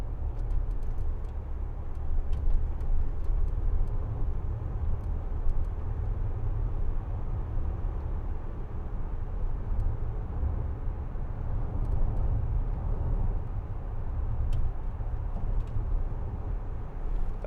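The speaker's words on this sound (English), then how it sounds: "This is a very bumpy road as well, and suspension on this Discovery, it's still a little bit bumpy" Cabin noise of a Land Rover Discovery 4 3.0 SD V6 HSE driving along a bumpy country road: a steady low rumble of engine and tyres with faint scattered ticks and knocks from the suspension.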